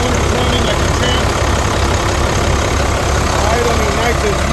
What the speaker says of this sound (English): Idling nice and smooth.